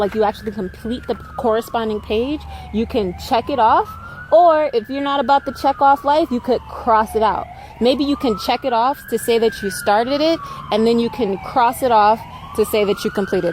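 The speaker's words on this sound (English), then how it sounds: "Please excuse the siren." A wailing emergency siren rises and falls repeatedly in the background while a person keeps talking over it.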